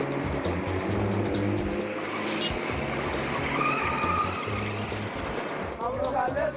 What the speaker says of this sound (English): my taxi driver has to fight his way through Khartoum's chaotic traffic